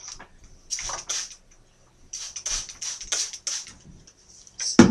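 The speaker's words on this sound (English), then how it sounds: "Now just make sure it's well saturated with water." Running water soaks natural hair under a faucet, heard as irregular hissing bursts of spray and splashing with short pauses between, ending in a louder splash.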